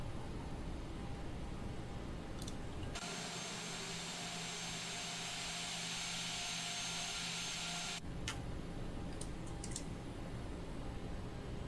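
Boeing 737-800 in Ryanair livery taxiing on the runway in the X-Plane 11 flight simulator, a steady broadband engine roar that swells into a louder rushing band midway, then drops back to a lower hum.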